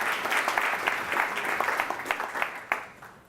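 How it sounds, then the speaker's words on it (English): An audience applauds at a corporate innovation presentation for Walmart Canada: a dense, steady burst of many hands clapping that swells, then gradually tapers off near the end. "I want to get everyone to applaud both Marie and Jordan for bringing us all together."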